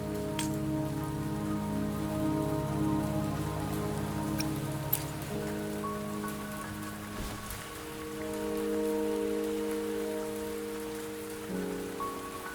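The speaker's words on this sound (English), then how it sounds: "the rain won't last much longer" Steady rain pours down continuously in the video game Wuthering Waves, with occasional heavier drops, set against a low droning musical background; no one speaks.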